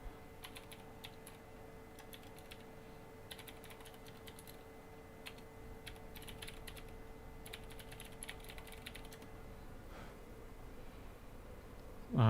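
Steady, close clicking of keys as someone types on a MacBook keyboard during a keyboard test, with irregular bursts of keystrokes over a faint constant hum.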